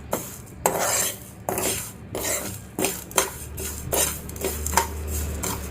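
A spoon scrapes and stirs cumin seeds roasting in a pan over low heat, a steady close rhythm of metallic strokes repeating about every half second.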